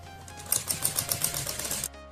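A sewing machine runs a straight seam on a kurti in a short burst of rapid, even mechanical ticking, close and moderately loud, stopping abruptly near the end.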